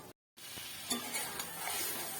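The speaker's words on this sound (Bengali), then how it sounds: "চিংড়ি মাছ দিয়েও আমি 2 মিনিট রান্না করে নিয়েছি" Prawns cook with spinach in a pan, giving a soft sizzle and light stirring scrapes after a brief silent gap.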